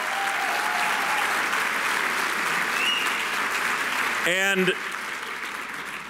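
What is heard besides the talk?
audience applause for union staff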